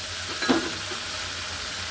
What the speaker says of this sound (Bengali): এখন আমি ট্যাংরা মাছগুলি এটার মধ্যে দিয়ে দিব।